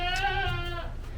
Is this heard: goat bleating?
yes